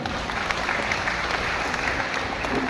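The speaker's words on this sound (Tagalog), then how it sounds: "Palakpak po sa Diyos." A church congregation gives a sustained round of applause, a steady dense clapping that fills the room and is heard on its own.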